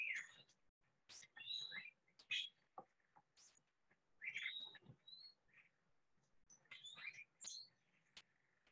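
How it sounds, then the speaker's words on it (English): Agitated calls of a flocking Peruvian Amazonian bird come in scattered bursts of harsh, machine-gun-like rattles and sharp, high chirps, fairly close, with brief quiet gaps between. "that rattle is a very distinct call of this flocking bird"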